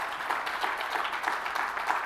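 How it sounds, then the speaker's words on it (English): Audience applause after the closing arguments of an Oxford-style debate, moderately quiet and steady throughout the short stretch, with no voices over it. "A round of applause for their concluding arguments."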